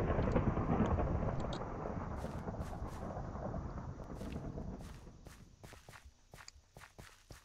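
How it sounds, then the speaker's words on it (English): Thunder in the Minecraft video game: a deep rolling rumble that fades slowly over several seconds, followed by scattered light clicks and taps. "Why is it thundering but not raining?"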